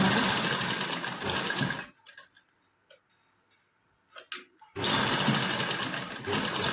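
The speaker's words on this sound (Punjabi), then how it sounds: "ਬਸ ਨਾਰਮਲ ਰੱਖ ਕੇ ਆਪਾਂ ਸਲਾਈ ਕਰਨੀ" A sewing machine stitches lace onto suit fabric in two fast, loud, continuous runs, separated by a quiet pause with faint clicks and handling sounds.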